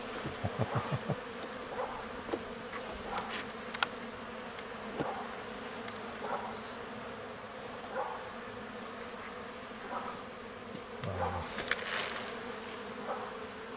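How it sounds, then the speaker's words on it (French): Steady, dense buzzing of many calm honeybees at an opened hive close by, a continuous hum with occasional louder individual bees passing near. "Ce sont des abeilles très calmes, très douces."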